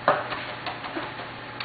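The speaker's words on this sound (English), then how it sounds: "we're going to go back and forth across the garlic until we get it all nicely uniform minced" Quick knife taps mincing garlic on a cutting board, a few light, irregular chops, close and fairly quiet with no talking.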